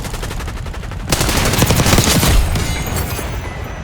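C9 submachine gun firing in Black Ops 6: a loud, sustained, rapid automatic burst starts abruptly about a second in and keeps going, with no talking over it.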